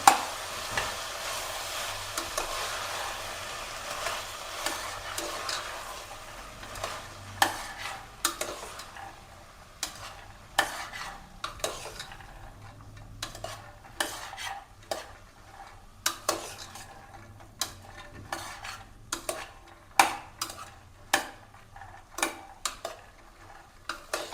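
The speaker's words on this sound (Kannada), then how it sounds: "ಒಂದು ಟೊಮೊಟೊ ಮುಚ್ಚಿಟ್ಕೊಂಡಿದ್ದು ಅದನ್ನು ಹಾಕ್ಕೊಂಡು ಸ್ವಲ್ಪ ಫ್ರೈ ಮಾಡೋಣ." Tomato frying in a pan for a chickpea and potato curry, with repeated sharp spatula scrapes and taps against the pan over a soft sizzle, close and irregularly rhythmic, no talking.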